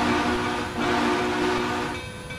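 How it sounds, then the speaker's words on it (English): Steam locomotive 765's Frisco Hancock chime whistle sounds in a video game as a loud, steady, sustained multi-tone blast close by over rumbling train noise, dipping briefly and tapering near the end. "the whistle on the 765 currently is a Frisco Hancock free chime"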